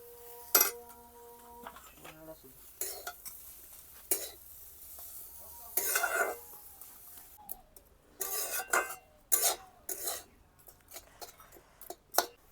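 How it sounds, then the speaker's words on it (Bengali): A utensil stirs grated coconut and date jaggery in a kadai wok, giving irregular metallic clinks, scrapes and taps close up with short quiet gaps between them. "নারকলের সাথে গুড়গুলো ভালো করে মিশিয়ে নিচ্ছি"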